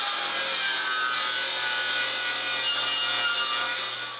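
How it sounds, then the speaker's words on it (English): Plywood being cut with a saw for a closed bookcase build in a woodworking shop, a steady continuous rasping cut that runs close and loud for the whole stretch with no talking. "I begin by cutting all the plywood I'll need for this."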